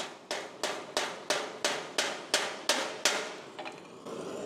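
Eight crisp hammer blows flatten a rivet on sheet metal for steel shop stools, evenly paced and close, followed by a few softer taps and quiet shop noise.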